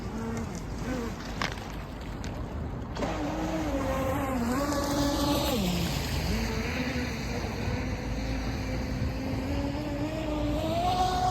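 A UDIO22 RC speed boat runs on water with a continuous high buzzing motor whine that rises and falls in pitch as it speeds up and turns, loud and steady throughout.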